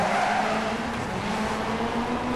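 A rally car in the DiRT Rally video game drives a stage in Germany, its engine a steady loud drone with a shifting pitch, heard up close with no voices.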